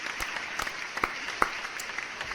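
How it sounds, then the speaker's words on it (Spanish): A studio audience claps lightly, with sparse, scattered handclaps at a modest distance and no voices over them. "un aplauso desde aquí para todos los meteorólogos y meteorólogas"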